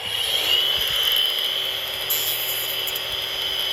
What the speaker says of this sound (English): So what I'm doing is I take my grinder.